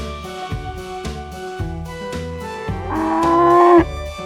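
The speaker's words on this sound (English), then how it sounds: "Wow, it's a cow." A toy cow gives a loud electronic moo, a series of pulsing tonal notes that swell into a longer sustained call near the end, heard alone with no talking.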